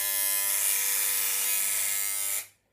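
Wahl hair clipper running through a Radio Shack travel voltage converter, a loud harsh mains-frequency buzz held steadily for over two seconds before cutting off abruptly.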